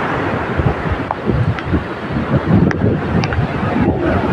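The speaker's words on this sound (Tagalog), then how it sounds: "Sobrang lakas na ng hangin at saka alon." Strong wind roars steadily over the crash of sea waves on a coast, a loud, continuous outdoor rush with gusts rising and falling throughout.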